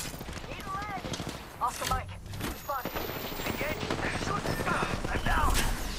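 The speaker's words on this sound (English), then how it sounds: "Taking fire. Getting shot at." Rapid gunfire bursts from a first-person shooter game, cracking repeatedly throughout under a dense mix of game noise, with voice callouts layered over the shooting.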